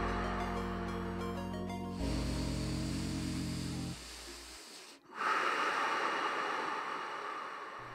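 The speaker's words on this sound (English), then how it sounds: "Inhale, exhale." Slow breathing during a guided breathing exercise: a long airy inhale or exhale rising out of steady sustained tones, near and moderately loud, with a short pause before the breath resumes over the soft background.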